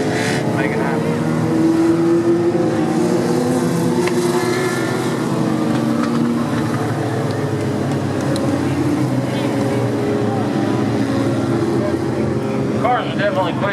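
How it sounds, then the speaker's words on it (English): Legends race cars lapping a speedway oval, a continuous layered roar of several engines rising and fading as they pass, with a voice talking over the noise. "Cars are definitely quick."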